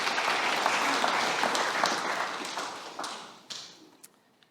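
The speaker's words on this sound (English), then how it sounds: "let's give them a big round of applause" An audience applauds at a Pacific health centre launch, a dense wash of clapping that is loud at first, then thins and fades, ending with a few scattered claps.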